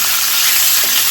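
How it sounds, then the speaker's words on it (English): Meat sears in a hot pan for a soup, giving a loud, close, continuous sizzle and frying hiss with no talk. "let me sear the meat a little bit here first"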